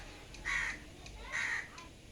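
Crows gathered at a water bucket outside a house give two loud, drawn-out caws about a second apart, close and clear over faint background noise.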